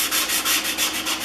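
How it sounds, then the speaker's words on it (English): An iron plane cap rubbed on 150-grit sandpaper over a sanding block, with quick rhythmic back-and-forth scraping strokes, loud and close, about six passes in a second. "starting with the 150 grit on sanding block."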